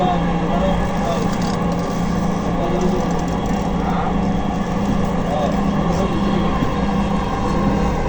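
A Dhaka metro rail train running between stations from Pallabi toward Secretariat, a steady, loud rolling rumble heard from inside the carriage, with a voice speaking over it.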